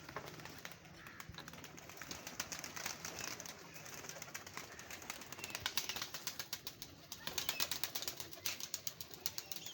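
A pigeon flaps its wings in bursts of rapid, close whooshing beats, growing stronger toward the end, with soft cooing and bird calls mixed in and no talking.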